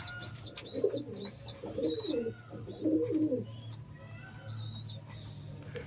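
Pigeons coo repeatedly in low throaty phrases, with a few higher chirps over a steady low hum.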